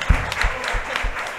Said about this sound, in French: Je pense qu'il se mérite une bonne main d'applaudissements.